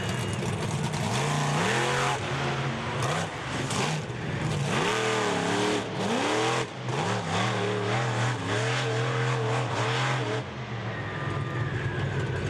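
A Venom monster truck drifts around a dirt track at a monster truck drag event in Indianapolis, its engine roaring loud and steady with repeated revving swells and pitch sweeps throughout.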